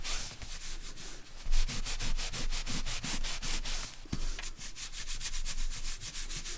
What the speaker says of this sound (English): That's the good thing about glue stick, it does rub off.